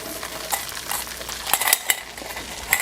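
Chopped onion is tossed and stir-fried in hot sesame oil. A steady sizzle runs under scattered clicks and scrapes of a utensil against the pan.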